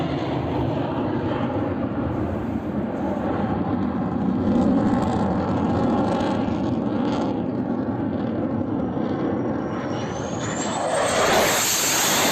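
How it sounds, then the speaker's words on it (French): A Mirage 2000D fighter jet on takeoff gives a loud, steady, roaring engine rush, with a rising high whine building toward the end. "L'avion de chasse Mirage 2000D sait faire un départ fracassant."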